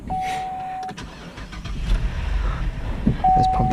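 A 2008 Buick Enclave crossover starts up close by in a garage setting, a brief crank catching into a steady low engine idle with faint key and cabin clicks, no talking.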